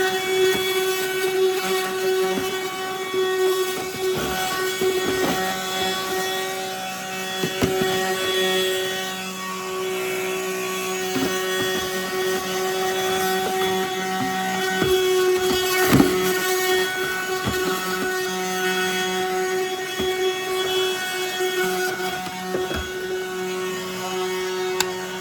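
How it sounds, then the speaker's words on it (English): A vacuum cleaner sucking trash and dust from the interior of a 2010-2015 Chevrolet Camaro SS, a steady droning whine close by, broken by bumps and rattles as the nozzle moves around. "I'm gonna go ahead and vacuum in here real quick, just get all the trash and dust out"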